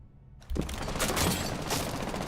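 Rapid gunfire in a competitive first-person shooter match erupts abruptly after a brief quiet, sustained bursts of shots with a mechanical rattle, loud and close.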